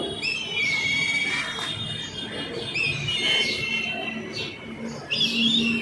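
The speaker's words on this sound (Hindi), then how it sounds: "आवाज़ सुन रहे हैं चिड़िया की।" Birds chirp and call intermittently on a rooftop terrace, with several thin whistling phrases repeating over steady outdoor background noise, moderately near.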